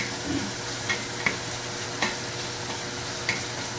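A spoon stirs cooked mustard greens in a pot, giving several soft scraping clinks spaced irregularly over a low steady background hum, fairly quiet and close, with no talking.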